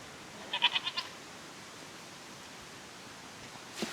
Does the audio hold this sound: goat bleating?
yes